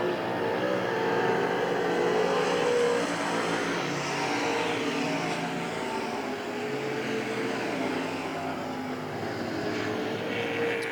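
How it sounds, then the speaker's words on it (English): Race cars lap the Hagerstown Speedway dirt track, engines roaring continuously at moderate distance with rising and falling drone as the field passes, and no voices over it. "As the leaders make their way back, Brian Swiger in the 34, rounding out the field as they come back for lap 4."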